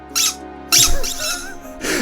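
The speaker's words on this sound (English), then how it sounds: "Marston Pebbles says that squeaky toy noise just made my dog perk up and start sniffing around, LOL." A squeaky dog toy sound played from a soundboard gives loud, close squeaks in three bursts: a brief one, a longer wobbling squeal and a final short squeak.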